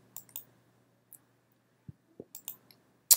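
Several sharp mouse clicks spaced irregularly over a few seconds, quiet and close, with no talking, as options are picked from a discussion thread's context menu.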